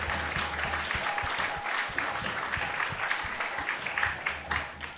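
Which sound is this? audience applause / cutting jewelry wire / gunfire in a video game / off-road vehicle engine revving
audience applause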